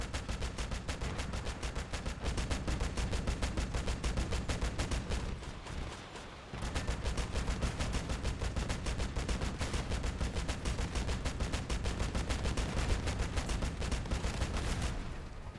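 Rapid, continuous weapon fire in the vehicle-combat video game Crossout, loud and close. The shots drive on in a dense, even rhythm, break off briefly midway, then resume.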